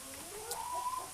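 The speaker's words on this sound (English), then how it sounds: "But there's definitely 1 rooster there and 3 hens." A farmyard coop with one rooster and three hens gives a brief, soft clucking call, a single short rising-and-falling note, faint and close, with no talking.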